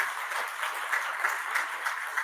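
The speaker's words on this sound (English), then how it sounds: "A round of applause for continuing the 14th year in continuity." An audience at a poetry symposium claps together in a steady, moderately loud patter of many hands that keeps up evenly with no talk.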